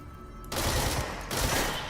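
Rapid gunfire in the video game Control, a dense burst of shots starting abruptly after a quiet moment, briefly dipping and then resuming at full intensity.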